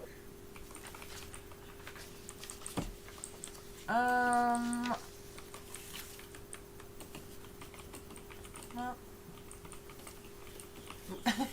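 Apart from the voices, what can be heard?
typing on a computer keyboard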